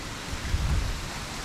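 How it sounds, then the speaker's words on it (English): Heavy rain falls outside during a storm, a dense, steady wash of noise with a low rumble swelling briefly in the middle, heard close and without voices. "It's not quite raining sideways, but it's at a decent angle."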